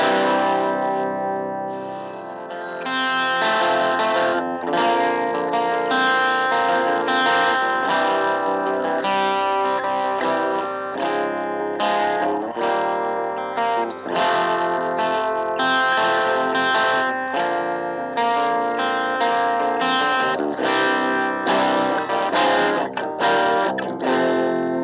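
An electric guitar runs through a Skeleton Key distortion pedal with the gain pulled back, strumming an unusual sequence of crunchy, driven chords continuously for about twenty-five seconds.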